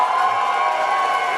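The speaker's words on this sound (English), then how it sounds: "You can just hear a huge cheer." Crowd cheering at a council election count, a sustained distant roar of many voices, steady and moderately loud with no clear individual words.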